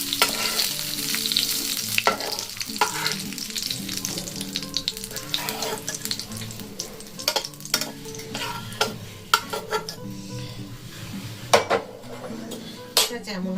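Mustard and coconut paste frying in oil in a pan sizzle steadily while a utensil stirs and clinks against the metal in repeated sharp knocks, close and fairly loud, with no voices.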